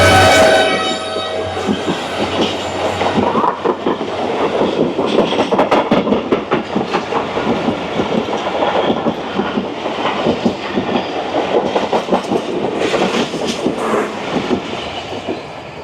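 A Pakistani passenger express, the 152 Down Shah Latif Express from Mirpur Khas, rolls loudly past at close range, its horn blaring and steady wheel clatter and rumble carrying through the whole passage.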